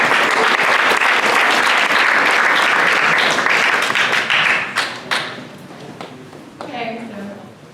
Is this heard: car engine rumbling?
no